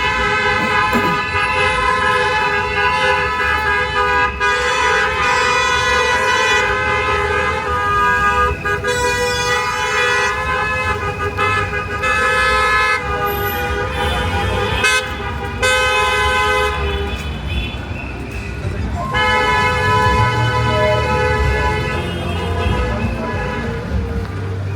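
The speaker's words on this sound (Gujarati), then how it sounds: "ગાડીઓ તો બહુ બધા જાય છે હોર્ન મારતા મારતા." Dense street traffic at a cricket fair on Melton Road, Leicester, with repeated car horn toots over a continuous, loud road rumble throughout.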